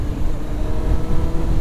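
Kawasaki ZX-9R motorcycle engine revving in first gear with a slipping clutch, a loud, close, rumbling roar that holds steady for the whole brief moment.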